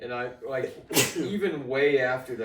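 A single sharp sneeze bursts out mid-conversation during a casual podcast chat among several men, cutting briefly across ongoing speech before the talking resumes.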